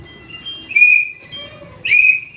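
Two short, bright whistle blasts, each rising then holding, sound with a pause between them, used as a party's whistle election symbol.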